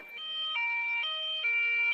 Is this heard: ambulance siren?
yes